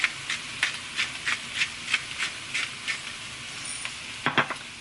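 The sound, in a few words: stirring seasoned food sizzling in a pan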